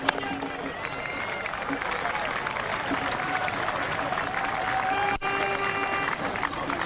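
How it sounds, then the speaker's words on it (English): A crowd at a 1999 World Cup cricket match between West Indies and Bangladesh in Dublin claps and cheers in a steady, moderately loud wash of applause, with a commentator speaking over it. "Appreciative crowd here in Dublin."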